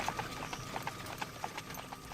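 A single horse's hooves clip-clop at a steady trotting pace as it pulls a carriage, a light rhythmic patter of hoofbeats at moderate distance, with no voices.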